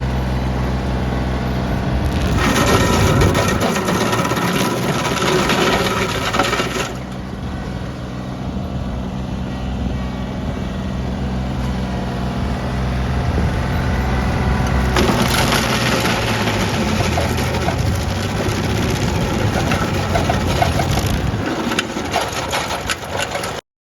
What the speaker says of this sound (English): you can grind right in the dirt. It doesn't seem to bother this stump grinder too bad.